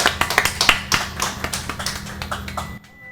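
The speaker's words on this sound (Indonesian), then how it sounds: "Gak apa-apa kalau mau tepuk tangan gak apa-apa." Scattered hand claps from a small audience at an Indonesian talk-show chat with a sub-district head, irregular sharp taps of varying loudness over about three seconds, close by, then stopping abruptly.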